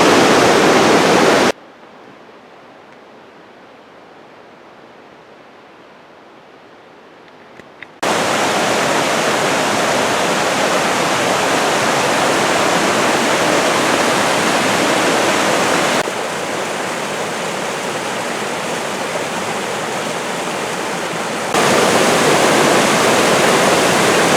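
Silver Falls at Mt. Rainier National Park roaring with heavy water flow, a steady broadband rush heard alone, much quieter for several seconds early on before returning loud and full.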